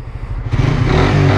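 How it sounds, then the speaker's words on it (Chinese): A Suzuki GSX-R150 motorcycle revving through its stock exhaust, the engine note swelling from a low idle into a loud, full, rising roar up close with no voices. "那它原厂排气管的声音，我是觉得还蛮饱和的啦。"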